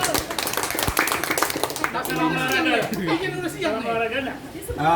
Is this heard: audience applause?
yes